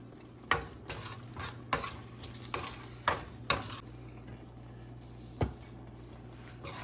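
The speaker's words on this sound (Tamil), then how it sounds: "நல்லா அப்படி கிளறி விட்டுட்டே இருக்கணும்" Semolina kichadi is stirred in a pan, with a low bubbling sizzle under a series of sharp, close clacks and scrapes of the spoon against the pan at irregular intervals, then a quieter stretch with one more knock.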